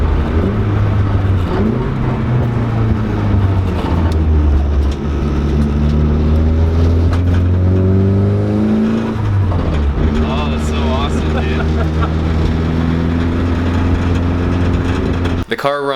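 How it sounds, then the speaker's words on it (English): A car engine, freshly fitted with new coil packs and a sub harness to cure a misfire, idles and revs close by, its pitch rising and falling in smooth sweeps, with voices talking over it. "The car runs so much better with those coil packs."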